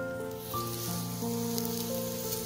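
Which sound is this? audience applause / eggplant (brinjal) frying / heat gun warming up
eggplant (brinjal) frying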